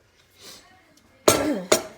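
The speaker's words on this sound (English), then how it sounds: "So I'm gonna put my cranberries in." Cranberries tumble into an Instant Pot for homemade cranberry sauce, giving two loud bursts of rattling and clinking near the end, each a quick cascade, after a quieter stretch of faint handling sounds.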